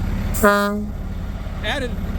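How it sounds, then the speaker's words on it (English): A loud, brief blast of an air horn on an Oshkosh fire tender truck, followed a second later by a shorter, weaker toot, close by over faint background noise. "added air horns"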